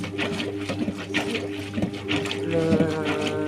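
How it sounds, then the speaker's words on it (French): A Brandt washing machine drains and spins, giving a steady wash of rushing, gurgling water with a low continuous hum beneath it, fairly close and unbroken. "je vais faire la vidange avec essorage"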